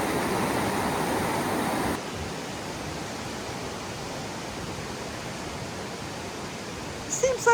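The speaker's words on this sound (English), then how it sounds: "This is Ruby Creek." Ruby Creek in North Cascades rushing steadily as a broadband flowing-water roar, louder in the first two seconds and then a constant nearby wash.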